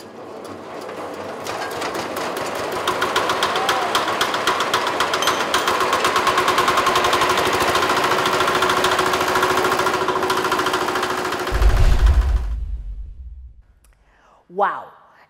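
Loud, rattling rhythmic drone from running agricultural machinery, including a grinder, a maize thresher and a blower, going for about eleven seconds before a heavy thump and a sudden stop, with voices close by.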